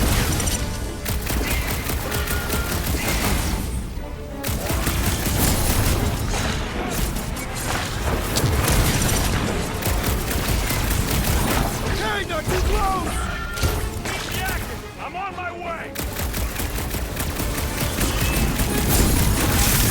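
Gunfire in the video game Guardians of the Galaxy, dense and continuous under game music and effects, with repeated sharp blasts throughout the combat. Voices are heard at times.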